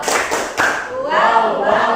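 Classroom applause as a teacher and pupils clap together in a rhythmic cheer, a dense burst of claps near and loud, with children's voices and shouts mixed in.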